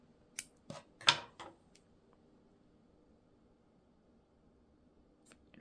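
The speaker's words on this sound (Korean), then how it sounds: "자, 이 정도 이렇게 해서 잘라줍니다" Scissors snip through knitting yarn while making a small knitted pouch, a few short close crisp cuts clustered near the start, then near silence with one faint click at the end.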